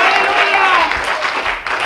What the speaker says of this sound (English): Clap your hand and worship the Lord.